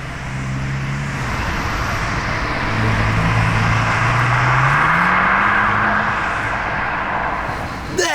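Ferrari prototype car driving past on a road in Maranello, a moderately loud engine note rising and sweeping by amid traffic and street noise.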